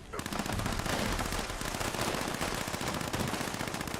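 Dense, rapid automatic gunfire rattles continuously in the video game Fallout 76, loud and close, with no pauses.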